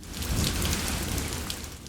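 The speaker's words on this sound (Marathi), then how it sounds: "बाहेरची मुसळधार अजून चालूच आहे" Heavy downpour of rain as an effect in a horror story, a dense, steady roar of falling water, close and continuous throughout with no voices.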